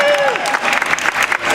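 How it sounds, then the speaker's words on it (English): An audience at a live stage event applauding, a dense close wash of clapping with a speaking voice briefly audible within it. "Applause"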